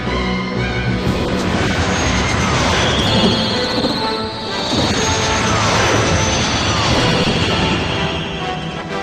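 Wing 2 aircraft from the Ultraman Dyna tokusatsu series launching, a loud, sustained roaring rush with crashing mechanical clatter and a sweeping whoosh, dense and continuous throughout, with music-like tones layered in.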